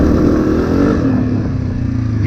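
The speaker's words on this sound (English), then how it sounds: "So listen as I go from second to third gear." Dirt bike ridden without pulling the clutch, its engine droning loud and close as the throttle eases off and it shifts from second to third gear, the pitch dipping slightly in the change.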